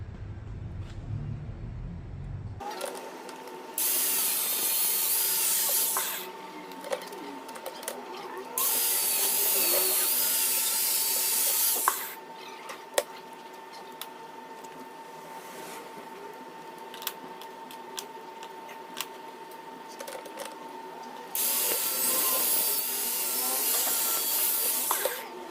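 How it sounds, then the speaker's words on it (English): A power tool saws through a metal automotive oil filter in several long bursts, a bright, harsh whine separated by quieter pauses filled with scraping and clinks. "Let me cut this thing up completely and get it right apart"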